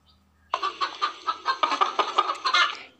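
A hen clucks in a rapid, rhythmic series of about a dozen short calls, close and clear, with no other sounds around it.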